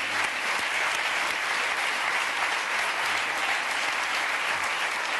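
A studio audience applauds Jeff's parents seated in the front row of a French TV variety show, a dense, steady wash of clapping that stays loud and even throughout with no talk over it.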